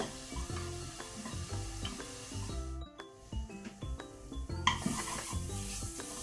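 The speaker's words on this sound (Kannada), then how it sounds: "ಈಗ ಮೀಡಿಯಂ ಟು ಹೈ ಫ್ಲೇಮಲ್ಲಿ ಈರುಳ್ಳಿಯನ್ನು ಒಳ್ಳೆ ರೀತಿ ಫ್ರೈ ಮಾಡ್ಕೊಳ್ಳೋಣ, ಕಲರ್ ಚೇಂಜ್ ಆಗಬೇಕು." Onions and green chillies frying over a medium-high flame sizzle steadily while a spoon stirs them in the pan, with background music playing throughout and a brief lull midway.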